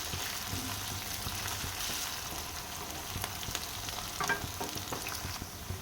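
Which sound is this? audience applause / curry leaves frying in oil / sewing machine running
curry leaves frying in oil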